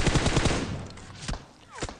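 Rapid automatic gunfire in the PUBG Mobile shooter game crackles in a quick burst, followed by a few scattered single shots, loud and close with no voices.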